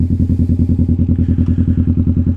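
A Kawasaki Vulcan S motorcycle engine running at a steady idle, loud and close, with an even, rapid pulsing thump and no talking over it.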